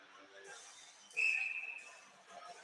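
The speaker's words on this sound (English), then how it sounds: "Goal scorer Martin elicits a quick whistle here" A referee's whistle at a college ice hockey game between Millersville and Lehigh gives one short, shrill blast midway through, rising above ongoing commentary and arena murmur.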